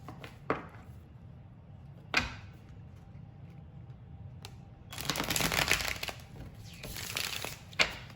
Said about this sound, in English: So let's get a shuffle in.